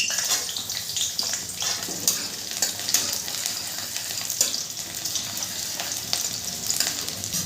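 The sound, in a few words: chopped garlic frying in oil and ghee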